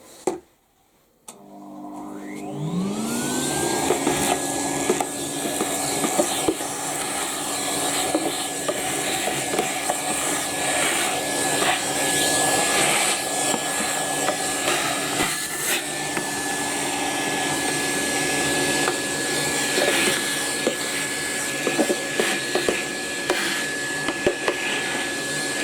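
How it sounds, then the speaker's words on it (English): A Henry canister vacuum cleaner switches on and spins up to a steady loud whine and airy roar with a sustained motor hum, running continuously up close, a faint pitch shift partway through. "Hetty needs to hoover this. So, Hetty is turned on."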